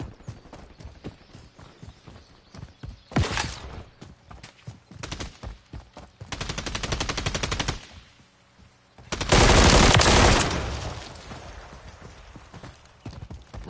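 Gunfire in the video game Modern Warfare III Zombies on PS5, with scattered single shots and mechanical clicks broken by two long loud automatic bursts, the second the heaviest, and quieter rattling between them.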